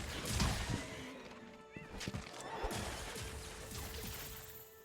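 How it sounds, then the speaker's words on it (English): A horse-like creature in the Monster Hunter video game lets out a loud neighing whinny, followed by heavy crashing thuds and hoof-like impacts close by. "It sounds like a horse."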